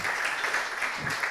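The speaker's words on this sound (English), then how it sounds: "I want you now to give them a huge, like a really huge applause." Dense, steady applause from a conference audience for the day's speakers, sustained and fairly loud throughout with no clear gaps.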